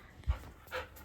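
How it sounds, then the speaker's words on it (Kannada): A dog pants softly close by in a couple of quick breathy puffs, faint and short with no other sounds around it. "ನಾಯಿನೇ."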